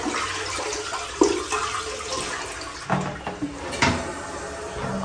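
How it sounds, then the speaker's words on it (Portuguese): Toilet flushing in an apartment bathroom after cleaning, a steady close rush of water running for several seconds with a few clunks and splashes over it, no talking. "Dá mais uma descargazinha aqui também."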